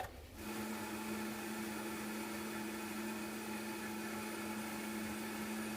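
A blender whirls chicken broth for salsa in a steady, loud, continuous motor whine from start to finish, close and alone.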